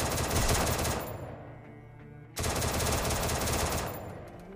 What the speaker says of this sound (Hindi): मुझे दोनों तरफ से भाई फायरिंग पड़ रहा है